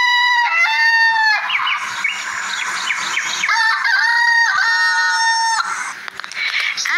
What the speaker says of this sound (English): the rooster crowed again.